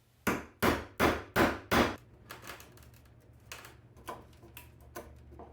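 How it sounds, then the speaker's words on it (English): A chisel is struck with a mallet, squaring up a drilled hole in red oak: five loud, evenly spaced blows, then a run of lighter, quicker taps and small knocks in a quiet room. "I used a chisel to square up the hole and remove the material between the drill holes"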